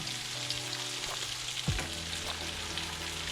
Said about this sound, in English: The white wine, now it's time to add some.